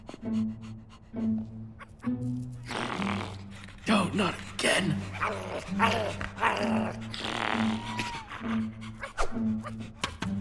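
Dogs growl and snarl in Minecraft: Story Mode, a few close, rough bursts mixed with game music and voices talking over them.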